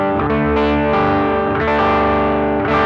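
An electric guitar played through a BOSS FBM-1 59 Bassman pedal with the presence turned down plays loud, overdriven sustained chords with repeated strums and no talking.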